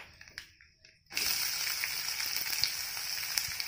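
After a brief near-silent moment, chopped onions hit hot oil already holding mustard seeds, chana dal and curry leaves, bursting into a loud, steady sizzle with small crackles that carries on close by.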